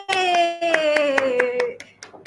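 A few people clap in a sparse, uneven rhythm at a business opportunity meeting, over sustained tonal music, the claps tapering off toward the end.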